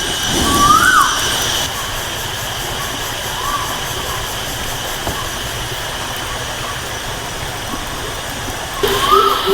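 A rushing stream beside a treehouse at night after heavy rain, a steady broadband roar of flowing water filling the whole span at close range, with a few faint brief squeaks near the start and end.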